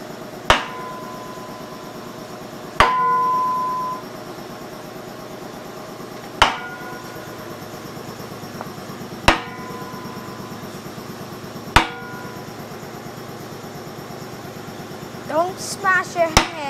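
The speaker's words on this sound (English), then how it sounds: "Justin, where did my big hammer go?" Several sharp metallic strikes from a big hammer ring out at irregular intervals during an Allis Chalmers C tractor engine manifold repair, over a steady mechanical hum, with a brief ringing tone after one blow.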